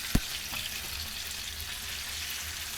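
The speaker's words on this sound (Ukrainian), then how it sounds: "смажу, смажу по 7-10 хвилин кожного боку." Belyashi meat pies frying in a pan over very low heat, a quiet, steady crackling sizzle with a brief clink near the start and no talk.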